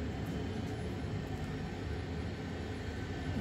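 Aircraft engine in a flight simulator on a motion platform, powering up for takeoff: a steady broadband roar and rumble, fairly loud and unbroken, with no talking.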